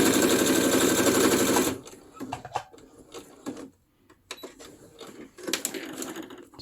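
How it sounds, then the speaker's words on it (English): A sewing machine runs straight stitching to sew panels into a cover, with a dense, loud mechanical whir for under two seconds, then stops, followed by quieter scattered clicks and handling noises. "And now it comes my sewing machine with the straight stitching."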